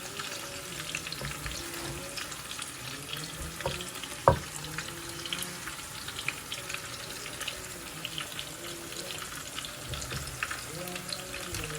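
Food frying in a pan for homemade deshi-style noodles, a steady close sizzle and crackle that runs throughout, broken by a sharp clack of a utensil partway through and occasional stirring sounds.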